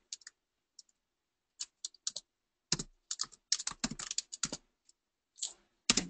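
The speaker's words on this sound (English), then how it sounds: "Bear with me, I'll just type it for you." Bursts of fast clicking keystrokes on a computer keyboard, close and fairly quiet, in irregular clusters with brief pauses between them, with no talking.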